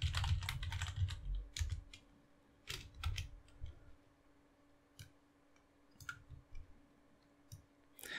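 Scattered bursts of typing and clicks on a computer keyboard, quick irregular keystrokes with pauses between runs, recorded fairly close over a faint steady hum.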